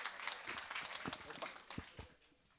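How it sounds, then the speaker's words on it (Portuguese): Seminar audience applause, faint and somewhat distant, a loose patter of clapping with a few sharper claps that thins out toward the end. "Uma salva de palmas aí."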